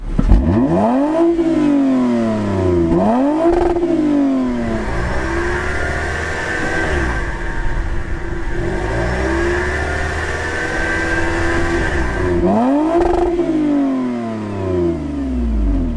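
A Toyota Camry TRD engine revs hard several times, the exhaust note rising and falling in loud throaty sweeps with a steady rumble between them.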